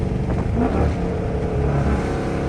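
A Dodge Charger 392 Gen 2 with a rebuilt engine idles and revs lightly with a steady, deep, continuous rumble under very light throttle, heard from inside the car with no talking.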